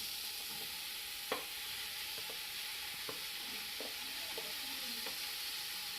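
Ridge gourd pieces frying in oil in a kadai for chutney, a steady bright sizzle throughout with a few soft spoon taps and stirs, no talking.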